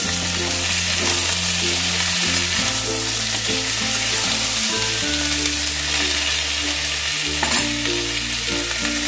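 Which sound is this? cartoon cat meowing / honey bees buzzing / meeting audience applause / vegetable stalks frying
vegetable stalks frying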